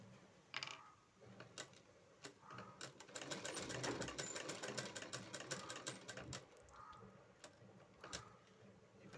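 A sewing machine stitches a zip onto a churidar. Its close mechanical clatter runs in bursts, with short pauses and faint clicks and ratcheting between runs of rapid stitching.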